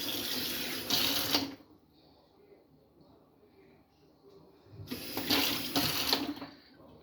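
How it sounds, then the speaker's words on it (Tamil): Water poured into a cup while cooking, two loud broadband gushing bursts at the start and end with a quiet lull between them, recorded close up in a home kitchen. "போட்டு ஒரு கப் தண்ணியை ஊற்றி"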